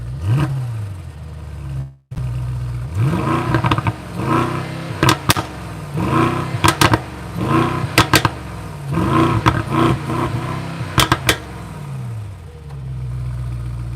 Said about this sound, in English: I am going to rev it now